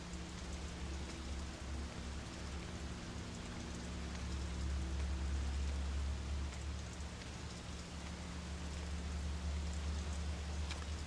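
Steady, even rain pours in the video game Fatal Frame, a dense unbroken hiss with a low droning hum beneath it and no voices.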